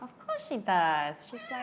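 A pet cat indoors lets out short meows, with one longer, drawn-out call in the middle. People talk close by at the same time.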